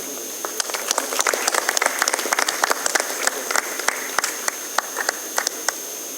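Audience applause at a prize ceremony, a steady patter of many hands clapping for a nursing officer receiving a consolation prize, dense and sustained throughout with sharp individual claps standing out near the front.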